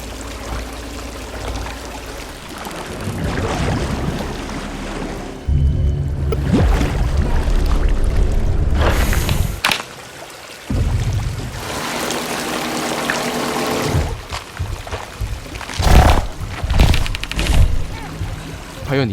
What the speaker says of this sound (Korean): 하필 터져버렸던 배수관의 물소리에